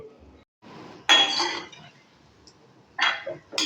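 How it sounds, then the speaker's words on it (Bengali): Sweet potato pantua being stirred while deep-frying in a pan: a few sharp metallic clinks and scrapes of a utensil against the pan, separated by quiet gaps. "অনবরতই কিন্তু নেড়ে নেড়ে পান্তুয়াগুলোকে আমাকে ভেজে নিতে হবে"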